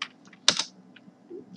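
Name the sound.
typing on a computer keyboard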